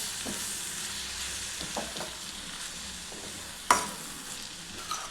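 A radish leaf and potato stir-fry being stirred in a pan, a continuous low sizzle broken by soft scrapes and one sharp clank of the utensil against the pan, close with no voices.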